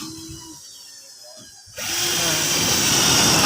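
A power screw gun fastens corrugated zinc roofing sheet, first quiet with faint motor hum, then a loud sustained whirring drive begins and continues to the end.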